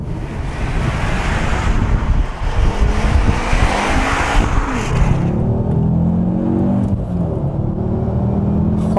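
A Ford Focus RS500 engine roars loudly under acceleration while driving, with a steady revving drone and rising harmonic tones in the second half, mixed with heavy wind and road noise.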